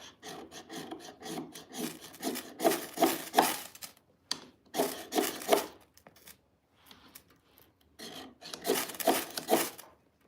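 A knife carving shavings off a piece of wood for kindling gives repeated rasping scrapes in short bursts with brief pauses between strokes, close and moderately loud.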